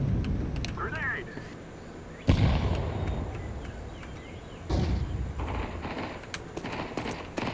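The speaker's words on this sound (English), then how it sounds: "Grenade." A grenade explodes in the shooter game Counter-Strike 2 with a sudden loud blast and a rumbling tail, and a second burst follows a couple of seconds later amid ongoing game noise and talking players.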